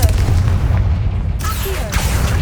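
A Confringo fire spell from the game Hogwarts Legacy bursts with a loud, dense boom that rumbles low and carries into a crackling blast tail across the whole short moment.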